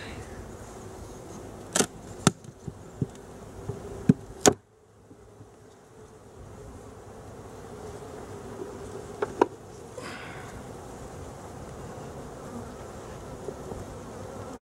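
Honey bees buzz steadily around an agitated hive, a dense continuous drone with a few sharp clicks and taps early on, fairly faint and with no talking.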